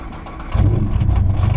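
A tuned Nissan GT-R drag racing car's engine cranks and catches, then settles into a rough, steady idle close by.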